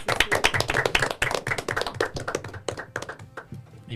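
A small studio crew claps at the close of a live show, distinct close hand claps in a quick, uneven rhythm that thin out toward the end.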